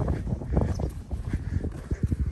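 Horses walking on a riding farm, their hooves clip-clopping in an irregular rhythm of soft, close thuds, with faint ambient noise and no talk.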